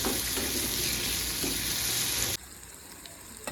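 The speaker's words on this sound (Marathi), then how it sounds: "थोडीशी कोथिंबीर, अजून 1-2 मिनिटं परतून घेऊ." Moth bean curry with tomato and coriander sizzles and crackles loudly in a pan for a couple of seconds, then drops abruptly to a faint, quieter sizzle with a light clink near the end.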